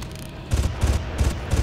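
Rifle grenades fired in the shooter game Far Cry, about four dull, thudding pops in steady succession over a hissy background, with no voices.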